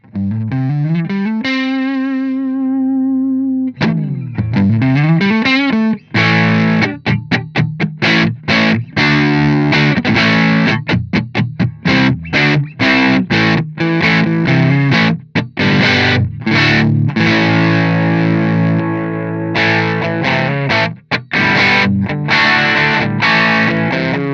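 Heavily distorted electric guitar through a G-Lab Rebel Series Chaos Overdrive pedal with gain raised, riffing with fast palm-muted chugs and ringing chords, loud, saturated and compressed throughout. No voices.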